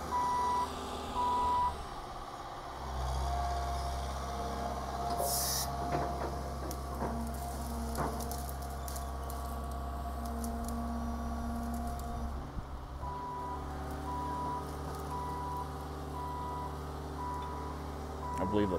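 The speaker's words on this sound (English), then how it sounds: "I believe the piece of equipment he's on is called a traco or an excavator." An excavator's engine drones steadily at a distance as it moves around a building during a house demolition, with reversing beeps, clanks and rattles of metal.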